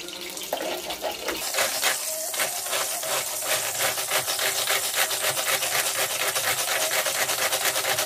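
After a brief quieter start, a food processor whirs into a steady, dense grinding as it chops a quartered onion, running loud and close with no voices.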